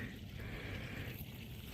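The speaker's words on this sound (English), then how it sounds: "There's a little bit better idea of a creek" A small creek flows beside a snowy hiking trail on Ballardini Ranch, a soft continuous babble and trickle at low volume with no talking over it.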